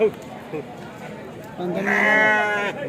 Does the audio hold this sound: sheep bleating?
yes